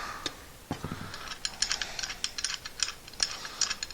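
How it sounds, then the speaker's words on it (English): Oil filter cutting tool, a pipe-cutter style tool, being turned by hand, giving a close series of irregular ratcheting clicks and small metallic rattles, quiet and without talk. "this is an oil filter cutting tool"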